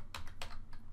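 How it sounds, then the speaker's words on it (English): Quick, soft clatter of keys on a computer keyboard, three short bursts of typing, close and quiet with no voices. "you're going to go to your address bar and you're going to type in"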